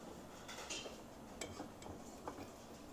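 Cutlery cutting a steak in garlic cream sauce on a plate, with faint, quiet clinks and scrapes of knife and fork against the plate, a few light taps spread over a few seconds.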